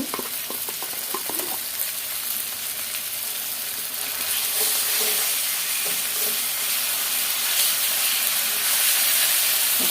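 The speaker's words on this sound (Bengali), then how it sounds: "এখন দিয়ে দেবো আদা রসুন বাটা খুব বেশি মশলা দিতে হবে না সাথে একটু জিরা বাটা ছিল" Ginger-garlic paste and cumin paste fry in a pan with a constant close sizzle and hiss that swells a little louder in the second half, with no talking over it.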